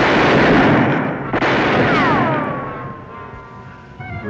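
Gunfire rings out in a Wyatt Earp western TV episode, loud booming shots with a long echoing tail and a sharp second crack, then fading into thin whistling tones.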